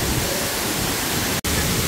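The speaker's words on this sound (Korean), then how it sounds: "이곳이 홍룡사 폭포입니다" The Hongryong waterfall, some 15 to 20 metres high, at Hongryongsa temple in Yangsan, pours a dense, loud and constant roar of falling water, close and enveloping, with one brief dropout near the end.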